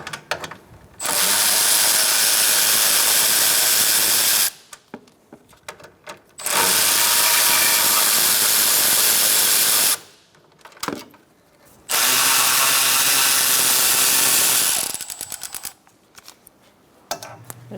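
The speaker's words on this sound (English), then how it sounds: "Using a short 10mm socket, we're going to take out these 2 bolts" A short 10mm socket on a ratchet wrench backs out radiator bolts on a 2014-2019 Kia Soul 1.6L, in three sustained bursts of close, rapid mechanical clicking separated by quieter pauses, with no talking.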